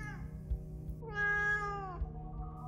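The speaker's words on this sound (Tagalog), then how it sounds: "At yung mga pusa ang iingay din" A cat yowls loudly near a hut at night, a drawn-out rising and falling meow with a couple of softer mewing tones around it, heard alone over faint low hum.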